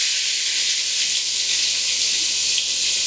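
Onions hit a hot pan for braised pork tacos, producing a loud, steady broadband sizzle and hiss that holds evenly throughout with no voices.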